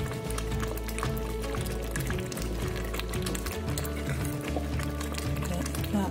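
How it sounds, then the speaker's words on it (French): Water runs steadily into a pan of cooking bean sauce, a continuous close liquid pour with faint bubbling and clinks underneath for about six seconds. "si vous n'aimez pas quand il y a la sauce comme ça, il faut mettre un peu d'eau"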